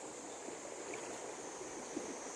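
A clear river flows steadily in a steady broadband rush of water, moderately faint and unbroken, with no voices.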